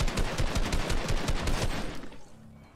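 Rapid bursts of gunfire in Fortnite, a fast run of loud, evenly spaced shots for about two seconds that then cut off and fade.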